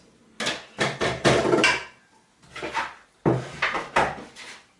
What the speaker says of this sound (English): now we can scrape it off the dough hook, like that